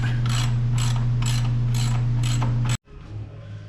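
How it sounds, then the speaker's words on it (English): A ratchet with a deep socket works 13mm bolts on a 6.4 Powerstroke truck, giving six loud, steady clicking pulls under a constant low hum before stopping abruptly, with no talk. "top two definitely need a deep socket"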